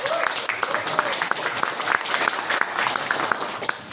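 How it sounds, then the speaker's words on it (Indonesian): Audience applause for Mr. Simon at a Ministry of Religious Affairs and Samsung Indonesia signing ceremony, a dense, even crackle of many hands clapping at moderate loudness for the whole span. "Applause to Mr. Simon."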